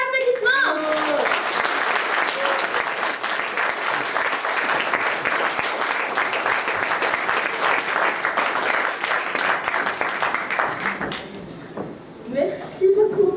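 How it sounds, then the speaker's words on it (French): An audience at a stage show gives a sustained round of applause for an award, with dense clapping lasting about eleven seconds before it fades and voices come in. "Un tonnerre d'applaudissements!"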